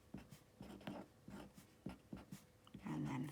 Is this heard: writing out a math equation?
yes